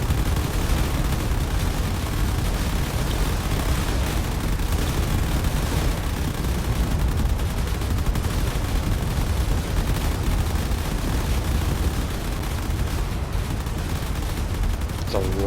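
Railgun fire and missile impacts crackle and thud in the space battle game Drone Wars, a loud, continuous barrage of overlapping shots and blasts with no pause across the whole stretch.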